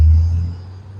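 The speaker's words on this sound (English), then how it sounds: "a lot of noisy trucks out here today" Low engine rumble from trucks passing outside, loudest at the start and then slowly fading, with no talk over it.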